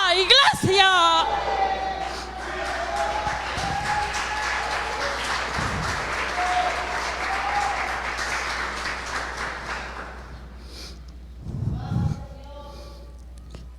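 A church congregation bursts into applause with cheers and whoops, a dense wash of clapping that holds for about ten seconds and then fades, with a voice calling out near the start and again near the end.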